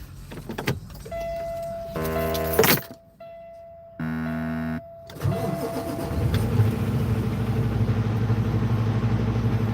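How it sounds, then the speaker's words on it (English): A truck's engine cranks in two short bursts, catches on the third, then settles into a steady, close running rumble. "I'm moving my truck."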